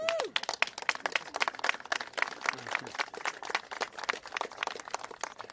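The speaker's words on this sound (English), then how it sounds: "Give them a round of applause." Audience applause at a bipartisan congressional event on miners, a steady patter of many hands clapping in a moderately sized crowd, fairly faint, with a brief voice near the start.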